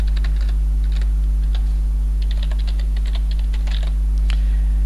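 Keys patter on a computer keyboard in quick, irregular bursts of close clicks, laid over a loud, constant electrical hum.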